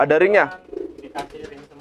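Crested pigeons coo close by while a person talks over them in short phrases.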